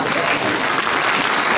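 Concert audience at a choir performance applauding, a dense, loud burst of clapping from a large crowd filling the hall, with a voice speaking over it.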